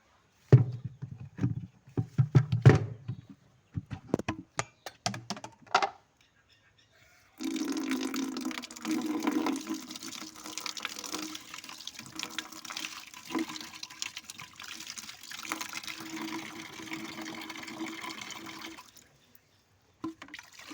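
Water pours from a pipe into a waste bucket outdoors. A few knocks and handling sounds come first, then a steady, close splashing gush runs for about twelve seconds before stopping.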